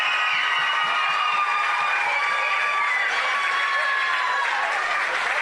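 Crowd at an NTFL men's Division 2 football grand final in Darwin roaring and applauding after a goal, a loud, dense, sustained wash of cheering and clapping.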